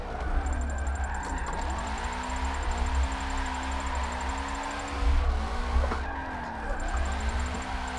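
A car drifting in Forza 7, with a continuous engine roar that rises and falls and long tire squeals as it slides through corners, loud and without talk.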